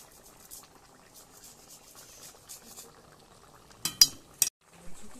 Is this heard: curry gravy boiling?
yes